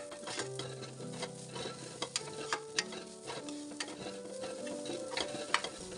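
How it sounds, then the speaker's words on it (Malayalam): Dry scraping and stirring of a grated coconut mixture roasting in a pan with a soft sizzle, punctuated by light regular clicks of a spoon against metal; no talking. "ആ സമയത്തോളം നമുക്കൊന്ന് ഇതുപോലെ ഒന്ന് വറുത്തെടുക്കാം"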